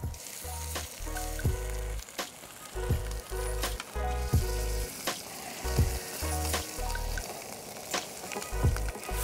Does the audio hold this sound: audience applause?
no